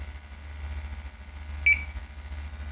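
A portable gas detector, a MultiRAE or Altair 5X, gives a single short, high electronic beep during its warm-up sequence, heard once over a steady low hum.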